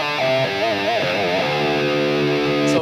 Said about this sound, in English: if that isn't enough distortion, you can always use the booster.